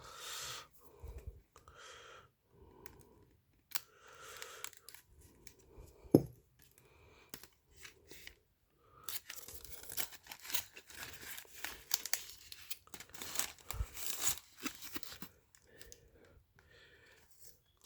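Packaging tape being cut and peeled off a Transformers Legacy Evolution Medix toy box, with close crinkling plastic and cardboard rustles and short scratchy bursts coming in irregular handling spells, no talking.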